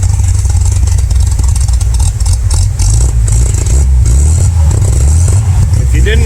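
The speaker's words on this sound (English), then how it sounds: "that's a 6-cylinder engine. Listen to that exhaust." Six-cylinder engine with twin carburetors running steadily close by, a deep, throaty exhaust rumble with slight surges in revs, heard under someone talking.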